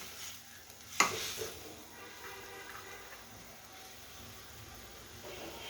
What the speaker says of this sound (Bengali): মাছের মাথাটা কষানো হচ্ছে।